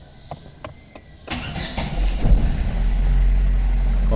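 A 2006 Fiat Palio fitted with a start-stop button starts up. A few soft clicks come first, then a brief cranking burst that catches and settles into a steady, close, low idle.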